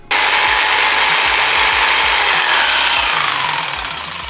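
A corded jigsaw cutting wood while powered from an Anker SOLIX C1000 portable power station, a loud steady buzzing drone that runs throughout and eases off slightly near the end, with no talking.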